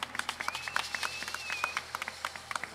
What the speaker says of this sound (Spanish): Pedimos un aplauso para él, el maestro Antonio Horta está por primera vez.